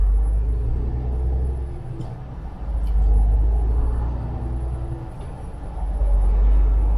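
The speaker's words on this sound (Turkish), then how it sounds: "akşam trafiğinde" Evening road traffic on the way toward Karşıyaka, with a deep continuous engine rumble from nearby vehicles that swells and dips as cars pass, along with occasional faint clicks.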